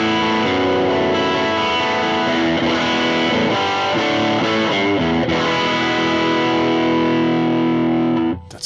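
Electric guitar through a Valeton GP-200LT running a Noble ODR overdrive capture, a loud sustained distorted chord passage with chorus-like shimmer, ringing alone before cutting off at the end.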